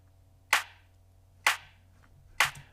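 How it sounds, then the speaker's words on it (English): Three crisp clap samples from an electronic drum track strike at even intervals, each sharp and bright with a short decay, over a faint low hum. "Now have a nice clap."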